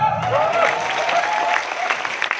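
An audience at a leaders' speech event breaks into steady, loud clapping that fills the whole short stretch, many hands at once, with faint crowd murmur beneath.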